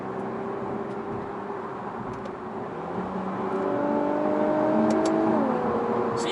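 Infiniti Q50 Red Sport engine accelerating in manual mode, a steady close-up drone that climbs in pitch as revs build, with smooth rising engine tones and no talking.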